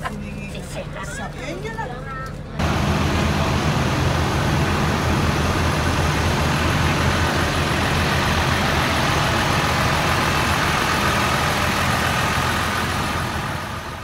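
A Saudi Arabian semi double-decker bus with its lower deck used for luggage, its engine idling in a steady low rumble that swells in loudly after a short quieter opening and holds constant.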